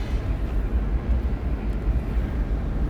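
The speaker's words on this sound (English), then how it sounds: "Chopper is right above me." Helicopter flying directly overhead near Lake Machado, a steady loud low rumble of rotor and engine noise that holds throughout without a break.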